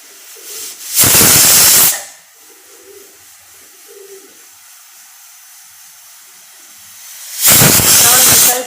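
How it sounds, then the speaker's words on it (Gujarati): Pressure cooker on the stove with guar and potato curry inside, letting out two loud hissing whistle bursts of steam about six seconds apart, with quieter kitchen sounds in between. "3 વિસલ થવા દઈશું"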